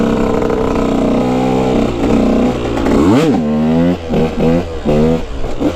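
A KTM EXC 125 motorcycle engine revs hard in second gear, close and loud, with sharp rising and falling throttle blips and a stuttering bog between revs.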